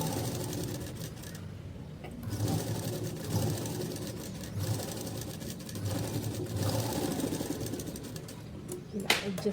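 A sewing machine stitches the edges of a blouse in a steady, soft mechanical whir, with short pauses between runs, fairly faint, while someone talks over it.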